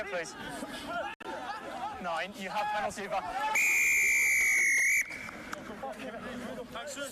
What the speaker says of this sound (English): A long blast of the referee's whistle